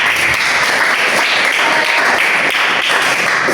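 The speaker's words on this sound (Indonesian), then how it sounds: "Beri aplaus untuk teman kalian." A classroom full of students claps together for a classmate, a steady, dense patter of applause that holds evenly from start to finish.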